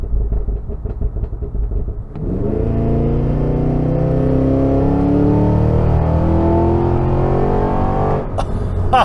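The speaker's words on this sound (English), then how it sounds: "it has the most obnoxious farts and backfires and pops that I've ever experienced in a stock car." A 2023 Cadillac Escalade V's stock exhaust roars close and loud as the engine revs hard through a sustained pull with a rising tone, then crackles with sharp pops and backfires as the throttle lifts.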